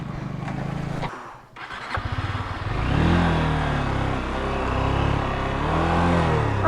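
An off-road motorcycle engine on a rough trail near Chitlang idles, dips briefly as if stalling, then catches and revs up into a loud, sustained, wavering drone close by.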